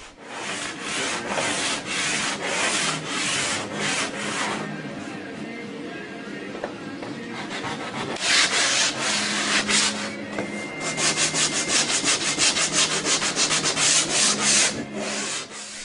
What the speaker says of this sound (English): there is a lot of sanding involved in doing custom stuff and body work